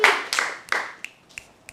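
A few people clapping for a guest at a show, several sharp close claps fading into sparse scattered taps, with no talking.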